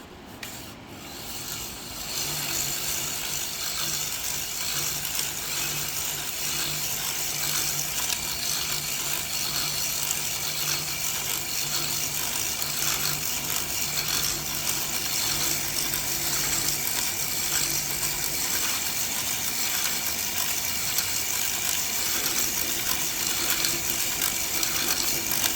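Power drill driving a hone inside a Kawasaki Mule engine cylinder, a steady close grinding and rubbing whir that runs continuously for the whole stretch with a faint ratcheting edge, no talk.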